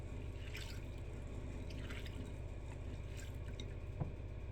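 Navy beans being swished and washed by hand in a bowl of water, a steady soft sloshing and dripping with a faint splash near the end, no talking.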